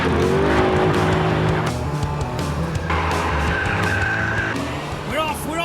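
A 500 horsepower Mustang launches hard from a race start, engine roaring loud with tires squealing and skidding, the note shifting as it pulls away into the distance.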